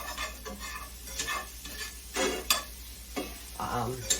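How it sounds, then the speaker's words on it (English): Butter sizzles with mushrooms in a frying pan while a utensil stirs and scrapes, making soft close crackling broken by clinks against the pan and a few quiet scraping passes. "I'm going to add some butter to this"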